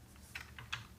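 A computer keyboard being typed on in a quiet room, with two or three soft, close keystroke clicks spaced across a brief moment over low background hum.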